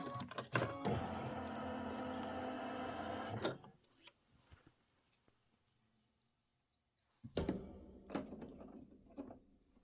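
An embroidery sewing machine stitches a leaves-and-acorns pattern in linen thread, a dense rapid mechanical whir with a clicking start, a pause of near silence, then the stitching resumes loudly and nearby.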